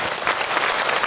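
Steady applause for Kak Hilman from the congregation at a religious gathering, a dense burst of clapping filling the whole moment at even loudness.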